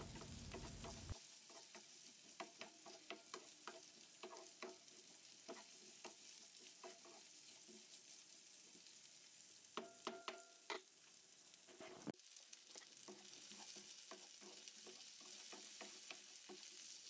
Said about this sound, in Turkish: bir adet büyük boy patatesi ay şeklinde doğradım ve birlikte kavurma işlemine devam ediyorum